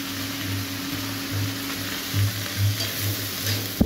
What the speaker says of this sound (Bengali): ফুলকপিটা ভাজতে দিয়েছে